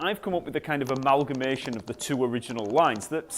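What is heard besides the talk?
No everyday noises stand out.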